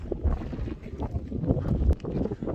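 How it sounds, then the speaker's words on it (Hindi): Cold wind blows across an open mountain track in Kalash Valley, Pakistan, a gusty rumble buffeting the microphone at moderate level with uneven swells and no talking. "इस टाइम यहाँ पर बहुत ज़्यादा बहुत ठंडी हवा चल रही है"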